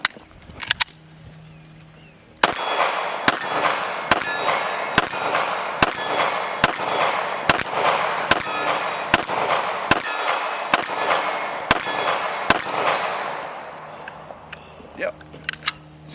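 Springfield Hellcat pistol fitted with a compensator fired in a rapid string of about eleven sharp, loud, evenly spaced shots at a range, with quieter handling sounds before and after.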